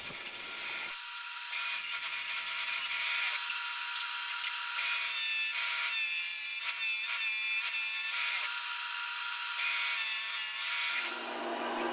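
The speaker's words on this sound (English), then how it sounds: "To finish things off, I'm going to go back to my skew and clean up the cut marks on the top section." A wood lathe spins a desk leg while a skew chisel makes cleanup cuts on its top section, producing a steady motor drone broken by bursts of scraping, chattering wood cutting.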